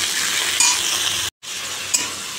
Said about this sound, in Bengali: এবার কপিটা ভাজবো।